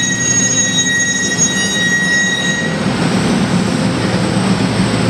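A Tokyu 8500 Series electric commuter train rolls steadily past with a broad rumbling roar and faint high whine, moderately loud and continuous, no voices.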